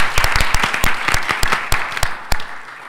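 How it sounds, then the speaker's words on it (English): A small school board meeting audience claps for a student, producing loud, distinct, scattered claps in an uneven rhythm that thin out toward the end, with no talking over them. "we'll give you a round of applause for helping record the valuable meeting"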